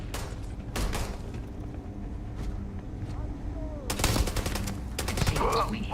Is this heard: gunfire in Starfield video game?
yes